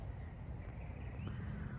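Crows cawing near a fallen tree outdoors, a few harsh calls standing out over a steady background hiss, with no one talking.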